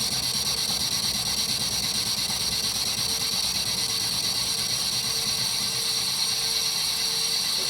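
Metal lathe turning with a coated carbide insert at around 200 RPM, giving a continuous mechanical whir with a steady high-pitched hiss and faint rhythmic gear clatter, close and unbroken throughout.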